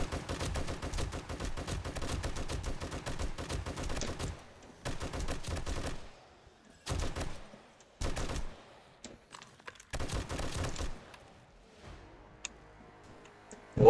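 A machine gun in the video game 7 Days to Die fires in rapid bursts, a long stream of shots followed by several shorter volleys separated by quiet gaps, fairly close and clear.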